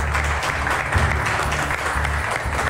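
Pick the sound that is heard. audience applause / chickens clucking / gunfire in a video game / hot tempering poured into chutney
audience applause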